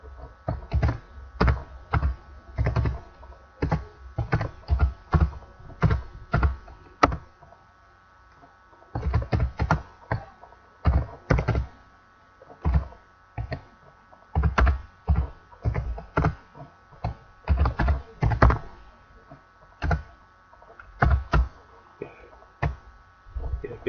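Keystrokes on a computer keyboard while writing code for an MK Mugen hyper combo, coming in irregular bursts of quick clicks with short pauses between, close and clear throughout.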